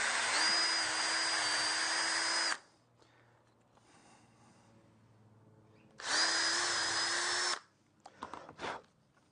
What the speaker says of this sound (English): I'm actually going to drill a pilot hole there so we don't split the timber.